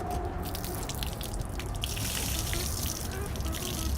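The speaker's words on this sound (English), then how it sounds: "And then we'll take it outside of the bucket, wring it out on the ground." A wet car wash mitt is wrung out outdoors while cleaning a Ferrari F355 Spider soft top, water splashing and dripping onto the ground in a close, continuous patter of gushes and drips.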